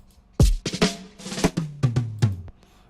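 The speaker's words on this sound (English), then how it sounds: "Don't forget I added a drum roll here" A drum roll in an amapiano beat: punchy low kicks and snappy hits land in a quickening run of about nine strikes, loud and close with deep booming tails.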